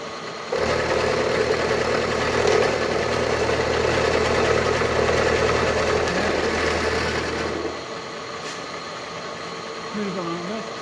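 A milling cutter with a roughing bit chews through a handmade metal twin-rail swingarm for a custom Harley-Davidson Sportster, a loud steady grinding whir that runs for several seconds and then stops, leaving quieter shop sounds.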